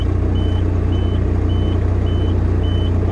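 A 1980s truck's reversing alarm beeps steadily at regular intervals over a loud, low diesel engine rumble close by.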